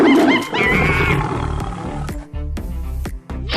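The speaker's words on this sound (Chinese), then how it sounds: "此起彼伏愤怒的兽吼声响彻在整个丛林上方" Angry wild animals roar over and over through a jungle in an animated scene, loud overlapping growls and howls with sharp bursts, close and layered, no talking.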